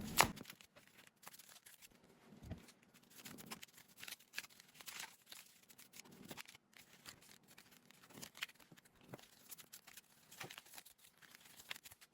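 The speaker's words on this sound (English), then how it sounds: "as I was shuffling the cards and seeing what cards are coming through" Tarot cards being shuffled, quiet, irregular riffling and light slapping taps scattered through a long stretch with brief soft rustles in between, close by and without speech.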